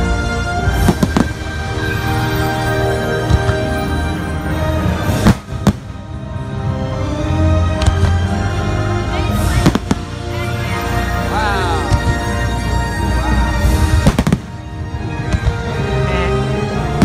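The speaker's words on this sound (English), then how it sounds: "More fireworks, less music." Fireworks burst during the EPCOT Illuminations show at Disney World, with sharp booms cutting through a dense, continuous bed of music and crowd sound for the whole stretch.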